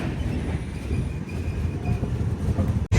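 The Visakhapatnam Express (12862), running from Mahbubnagar to Visakhapatnam, gives a loud, continuous rail rumble with faint wheel squeal, heard close and steady throughout.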